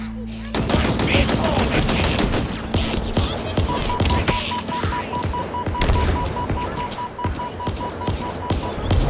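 Gunfire in Halo Infinite at the Command Spire, with dense, loud bursts of automatic weapon fire and scattered heavy thuds running almost nonstop and a steady electronic tone in the mix.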